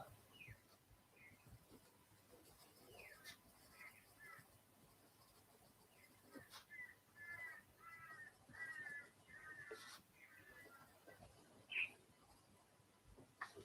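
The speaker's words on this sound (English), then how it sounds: "Crows are having a full-on lark outside at the moment." Crows cawing outdoors, heard faintly from indoors as scattered harsh calls in irregular bursts, distant and soft over a quiet room background.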